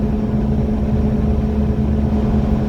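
A Mitsubishi Pajero Mini kei car engine drones at full throttle with the pedal floored, a loud, steady, strained hum with no pauses and no talk.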